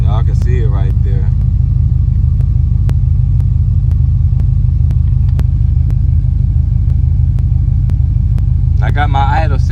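A Buick Regal with Holley EFI idles steadily after a cold start, a loud, even low rumble with a regular pulse throughout, while someone talks briefly at the start and end.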